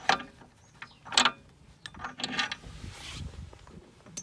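Metallic clanks and scraping come from a VW Golf MK7 wheel hub as its hub bolt is worked loose and pulled out. The sounds arrive as scattered close bursts with quiet gaps between them.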